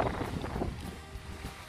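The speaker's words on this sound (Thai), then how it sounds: "ได้ยินเสียงลมไหม" Wind gusts through a forest in Sweden, a soft rushing and buffeting roar close to the microphone, faint and unbroken, with no talking.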